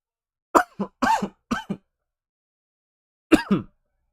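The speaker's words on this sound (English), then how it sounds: "I don't know why I coughed into my hand." A person coughs into a hand, giving three quick muffled coughs close by, a pause, then one more cough, with silence around them.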